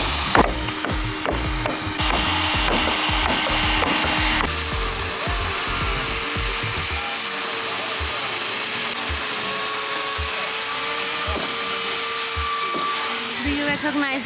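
Wedges hammered in under wood while stripping a sailboat's roof to bare wood, giving a fast series of sharp knocks early on, then a steady droning machine sound with scattered thumps throughout.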